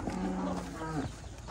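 A cow lows loudly and close at feeding time on a farm, one long drawn-out moo filling most of the moment with a shorter call at the end.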